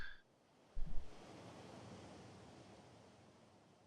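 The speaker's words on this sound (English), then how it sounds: "I know you can just hear the sounds of the waves right now" Ocean surf from the OutRun 2006: Coast to Coast video game, a steady broad wash of waves rolling on continuously at moderate level after a brief thump, with no voices.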